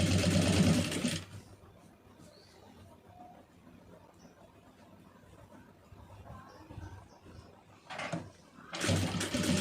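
Sewing machine stitching cloth in a tailoring setup, loud bursts of rapid whirring at the start and again near the end, separated by a quieter stretch with faint handling sounds.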